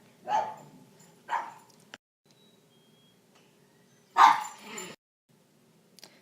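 Household dogs bark in short, separate bursts: two quick barks, a pause, then another louder bark with a trailing yelp. They sound moderately close in an otherwise quiet room.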